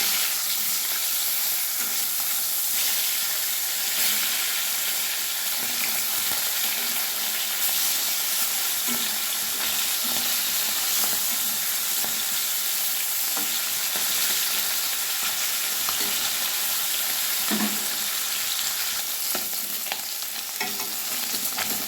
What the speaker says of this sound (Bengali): এবারে বাকি মাছগুলো আমি ভেজে নিচ্ছি